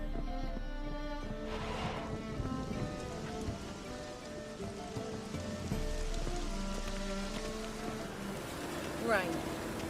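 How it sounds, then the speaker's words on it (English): Steady rain pours down on a harbor city in The Witcher III, with tonal game music running beneath it and a brief sweeping effect near the end. "Rain."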